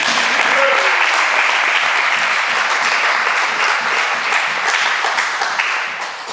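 A church congregation applauds loudly and steadily, a dense wash of clapping that holds for several seconds before beginning to taper off at the end.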